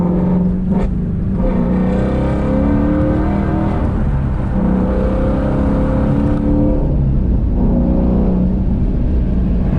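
A Ford Mustang GT350 engine revs loudly and close by, a deep, continuous engine roar whose pitch climbs and falls with the throttle.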